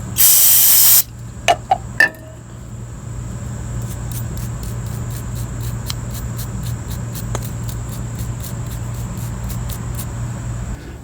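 A one-second burst of aerosol parts cleaner sprays onto a spark plug from a Ryobi two-cycle curved shaft yard trimmer, followed by a few sharp clicks and then steady background hum with faint rapid ticking.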